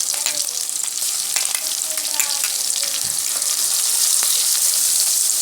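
Onion and garlic sizzle in a pan for Lahori chikar cholay, a steady close hiss of frying with a few faint clinks of stirring.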